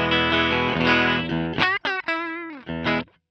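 Guitar played through a Zoom G14 multi-effects pedal on a clean setting, a sustained strummed chord fading into a few short picked notes and bends, close and alone with no talking.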